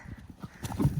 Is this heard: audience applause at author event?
no